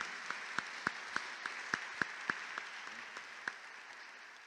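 Applause for a married couple visiting a parish: a short run of separate, fairly faint claps spaced out at a steady pace, thinning toward the end, with little else around them.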